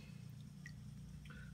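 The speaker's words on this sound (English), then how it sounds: "I'll let that drip off." Melted beeswax drips off a scoop back into a can during wax cleaning, with a few faint, sparse drips over a steady low hum.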